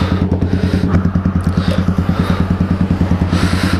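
A motorcycle engine idles roughly with a loose ignition cable, a loud, close, steady rapid chugging pulse throughout.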